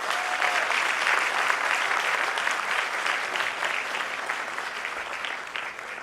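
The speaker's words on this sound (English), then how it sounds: "I would request all of you to please give her a loud round of applause." Sustained applause from a lecture audience for a keynote speaker at a memorial lecture, steady dense clapping across the whole stretch, fading slightly toward the end.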